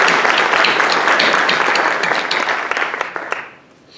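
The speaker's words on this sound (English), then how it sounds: "Round of applause." Sustained applause from a graduation convocation audience at a university English department ceremony, a dense steady wash of many hands that fades out in the final half second.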